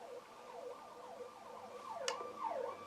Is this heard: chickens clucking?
no